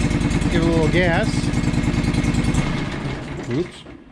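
A cold John Deere 445 lawn tractor engine runs loud and close with a rapid, steady putter, revving up in a couple of quick rising surges before cutting out after about two and a half seconds, leaving quieter background sound and a brief voice.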